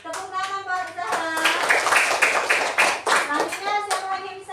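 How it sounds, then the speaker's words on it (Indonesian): Classroom of third-grade children clapping together for a classmate, a brisk run of uneven hand claps filling the room, with young voices calling and chattering over and between the claps. "Tepuk tangan Mbak Zahra"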